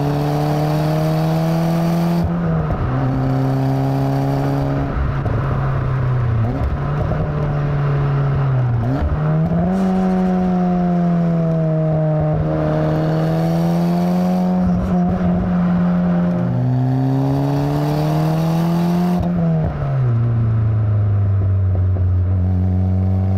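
A Lotus Elan M100 driven hard, its engine note climbing loud and close through several gears, each rising sweep broken by a brief dip at the shift, with no talk over it.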